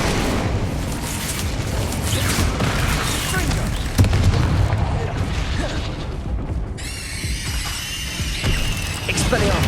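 Spell blasts fire in rapid succession during a Hogwarts Legacy battle, a loud, dense wash of booming bursts and crackling impacts that runs continuously with no break.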